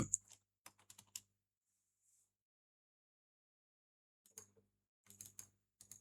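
Computer keyboard typing in quick bursts of close, crisp key clicks, separated by a few seconds of silence, with no talk.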